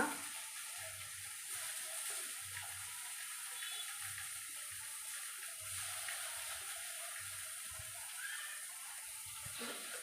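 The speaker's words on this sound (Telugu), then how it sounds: "ఆ టమాటా ముక్కలు కూడా ఇందులో వేసేసుకుంటున్నా" Tomato pieces dropped into a hot pan while making wheat rava upma, giving a soft, steady sizzle and hiss with faint low knocks and stirring thuds, quiet and unbroken.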